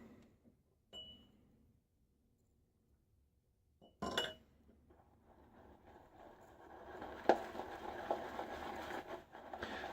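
A Semogue 125 boar shaving brush whips Stirling For Him soap into lather in a bowl, giving soft wet patter and light clinks against the bowl that grow into a steady, close swishing churn with no talking.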